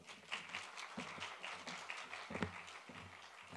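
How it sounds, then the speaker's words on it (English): Audience applause in a small hall as a guest speaker walks on stage for a financial management talk, steady scattered clapping with sharp individual claps throughout, moderately near. "No need to applaud because I didn't start speaking yet."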